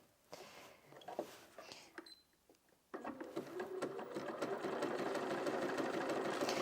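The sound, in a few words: Bernina 475 QE sewing machine sewing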